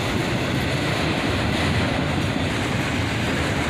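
A yellow Conrail autorack car in a freight train rolls past close by, a steady loud rumble of wheels and rail noise with no pauses and no voices.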